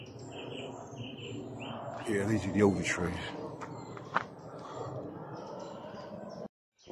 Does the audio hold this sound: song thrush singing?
yes